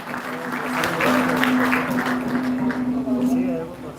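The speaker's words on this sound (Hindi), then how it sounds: "आपकी तालियां एक बार फिर से बजनी चाहिए सभी अतिथिगणों के लिए" Audience applause for the guests at a Guru Purnima live event in Bhiwani, steady clapping throughout under a sustained musical tone.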